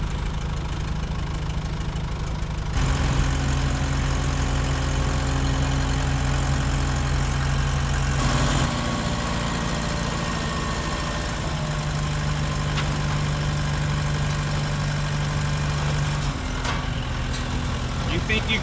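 A tractor and a skid steer on a farm idle with a steady, heavy low drone, with shifts in pitch and load partway through, while people talk nearby.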